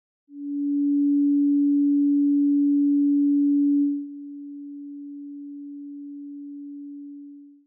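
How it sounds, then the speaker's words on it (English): A pure sine tone holds one steady pitch, loud at first, then drops to a softer level and continues until it stops. "we're going to give you the pitch with a sine wave"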